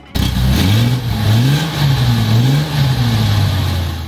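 A 1983 Ferrari 400i engine revs loudly up and down in repeated surges, a close, rising and falling mid-pitched roar with no talking.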